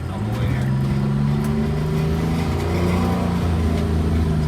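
The engine of an MCI MC12 bus accelerates with a loud, steady low rumble and a slowly rising drone throughout, heard close and continuous.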